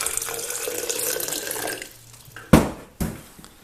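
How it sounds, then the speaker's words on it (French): Water running from a tap into a homemade seed sprouter container to soak seeds, a steady close stream that stops, followed by two sharp clunks of the container being handled. "Juste à mettre un petit peu d'eau."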